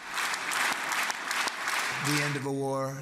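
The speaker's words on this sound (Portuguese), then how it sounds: "onde foi aplaudido por minutos" Loud, sustained applause for Trump sweeps through the Israeli parliament chamber, then fades as a voice starts speaking over the tail of the clapping.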